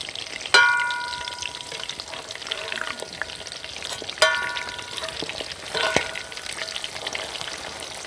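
Quail pieces frying in oil, a loud dense crackling sizzle throughout with a couple of sharp metallic clinks of a utensil against the pan.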